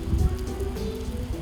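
Heavy rain pours steadily on a surface in a remote rural village, a dense continuous hiss with low rumble throughout and no voices.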